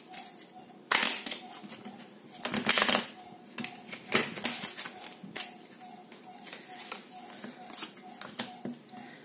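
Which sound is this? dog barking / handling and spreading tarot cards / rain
handling and spreading tarot cards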